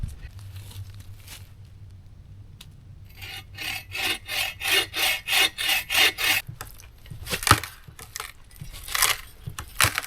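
Hand saw cutting through wood while gathering firewood at a tarp shelter camp: a run of about ten rhythmic rasping strokes, close and clear, followed by a few scattered rough scrapes and rustles.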